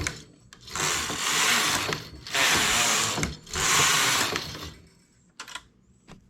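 Knitting machine carriage driven across rows of crystal wool, three long loud whirring sweeps with short pauses between, followed by a few clicks and knocks as it stops.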